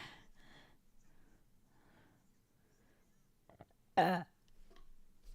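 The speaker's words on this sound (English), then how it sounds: "2 burps" Two burps from a man, a faint one early on and a loud, abrupt one near the end, separated by quiet stretches with soft vocal noises.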